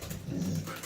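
A dog at a local family's home in Turkey gives a brief, soft whine or coo, faint and close, lasting only a moment.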